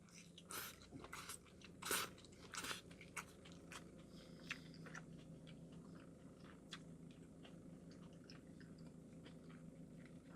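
Close, crunchy bites into a beef burger followed by steady chewing, loudest in the first few seconds and then softer, with no talking.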